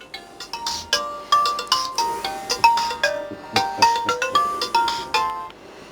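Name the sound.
mobile phone ringtone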